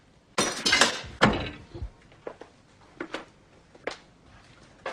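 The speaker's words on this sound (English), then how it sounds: "All your dishes are smashed, Jack." Dishes are smashed, with a burst of crashing, breaking crockery up close, followed by several scattered clinks and thuds of shards settling at lower volume.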